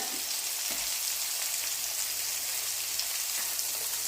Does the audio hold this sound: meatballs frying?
yes